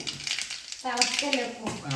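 Mustard seeds hit hot oil in a pan for a Kerala sardine curry, giving a sudden close crackling sizzle that flares up and keeps popping, with faint quiet ambience before it.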